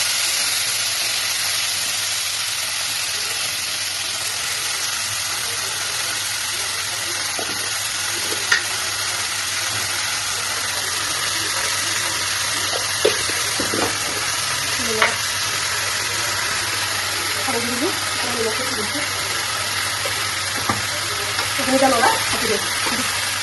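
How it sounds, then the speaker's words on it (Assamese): Fiddlehead fern (dhekia) frying with onion in a pan gives a steady, soft sizzle with faint stirring clicks and scrapes scattered through, with a few louder taps near the end. "ঢেকীয়াখিনি ভাজিলোঁ"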